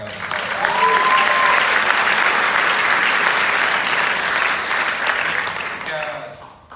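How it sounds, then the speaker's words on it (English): Audience at an industry panel event for the series American Crime Story: Versace applauds the show's writer with loud, sustained clapping that swells and holds, then fades out near the end. "Deserves a big round of applause."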